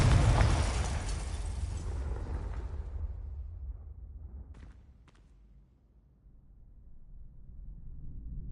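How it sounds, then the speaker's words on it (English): A large fiery spell explosion from the Confringo spell in Hogwarts Legacy, opening as a loud booming blast that slowly fades into a low rumble, with a couple of faint distant pops afterward and no talk. "Confringo."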